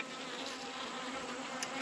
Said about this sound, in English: these bees that are flying around here